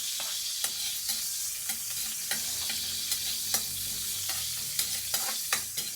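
Garlic and onion fry in hot oil for squid adobo, a steady bright sizzle broken by regular sharp taps and scrapes of a stirring utensil, close up with no talking.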